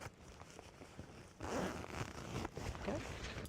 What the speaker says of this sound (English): We gotta open the zipper so that we can actually turn the bag.